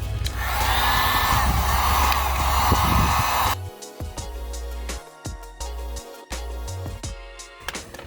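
A heat gun warms the fender of a 2019 Subaru WRX before a fender roll: a loud, steady blowing roar runs for about three and a half seconds, then cuts off, leaving quieter intermittent sounds.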